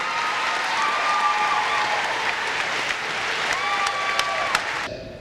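An audience at a hockey opening-night ceremony gives Coach Plant, a two-time Coach of the Year, a sustained round of applause that fills the room, with a few whistles and cheers and no talk over it.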